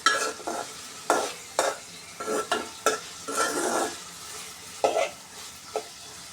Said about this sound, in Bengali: কড়াইতে তেল দিয়ে পেঁয়াজ আর চিংড়ি মাছ ভেজে নিচ্ছি।